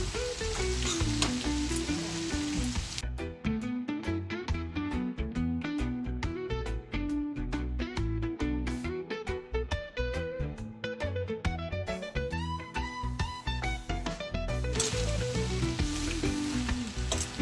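Bully beef and macaroni sizzling in a pot while being stirred, a steady loud frying hiss throughout with music playing alongside.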